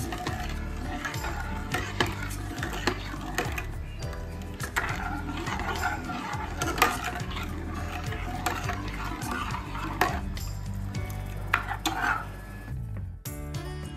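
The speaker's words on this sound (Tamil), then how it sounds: "சுகர் ஆட் பண்ணி நல்லா இதை மிக்ஸ் பண்ணி விட்டுடலாம்." Sugar is stirred into milk in a pot, with a spoon scraping and swirling in a steady, close, continuous rhythm, plus faint sizzling and a few light clinks.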